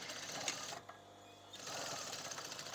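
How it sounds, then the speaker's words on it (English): A sewing machine runs in quick, even stitching bursts with a short pause in between as it sews down an overlocked seam on a bath-towel wash mitt, fairly quiet and close. "I'm going to reinforce by just stitching the overlocking down and just coming inside that overlocking stitch"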